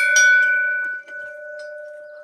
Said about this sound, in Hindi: घंटी बजा के अंदर चला जाए।